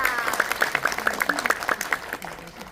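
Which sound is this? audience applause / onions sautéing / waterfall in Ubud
audience applause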